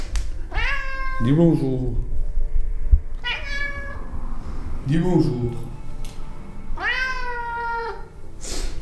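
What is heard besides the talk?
cat meowing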